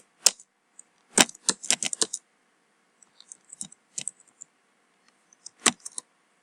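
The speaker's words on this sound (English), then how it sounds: "For example, I will type" Short bursts of clicking keystrokes on a computer keyboard while a sentence is typed in the Kodu game programming tool, quiet and close, with irregular clusters of taps separated by pauses.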